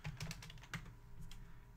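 Quick bursts of keystrokes on a computer keyboard, close and fairly quiet, in irregular clusters with a short pause partway through, during web page coding.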